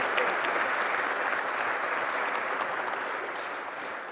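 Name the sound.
audience applauding at inauguration ceremony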